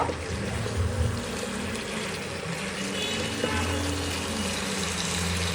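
Water poured into a pan of nearly cooked, well-fried meat to make gravy: a continuous close splashing pour with bubbling and hiss, no talking.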